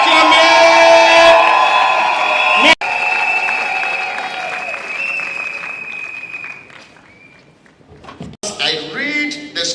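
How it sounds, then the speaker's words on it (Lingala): A wedding congregation in a church claps and cheers loudly, with whoops and voices riding over steady applause that fades mid-clip before a fresh burst of cheering near the end. "Est-ce que nous pouvons acclamer?"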